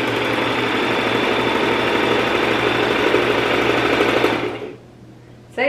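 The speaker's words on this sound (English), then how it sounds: "noise check on the Brother 3817." A Brother 3817 sewing machine runs at a steady, fast mechanical whir with a rapid needle rhythm for about four seconds, then stops abruptly, leaving a faint hum before a brief clunk at the end.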